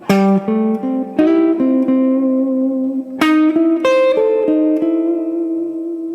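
An acoustic guitar plays a slow-blues lick of plucked notes, including a quick hammer-on from the flat third to the major third, with a few picked double-stops ringing clearly up close.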